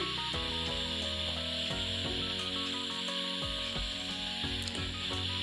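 Garam masala is stirred into fish head muri ghonto in a pan, with a steady hiss of sizzling and soft scraping strokes running continuously over background music.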